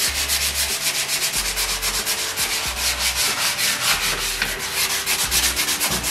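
A popcorn ceiling is sanded off in a small entryway, a harsh continuous scratchy rasp with regular back-and-forth strokes and a low motor hum, loud and close.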